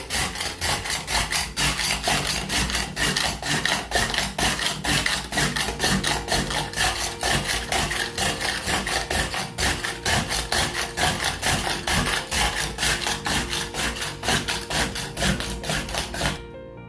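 A hand ice scraper is pushed hard across a block of ice to make shaved ice for raspados, giving loud, fast, rhythmic rasping strokes that repeat steadily for many seconds, close up.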